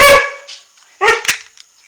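A dog barks sharply twice nearby, a short yappy bark followed by a couple of quick ones, with silence between.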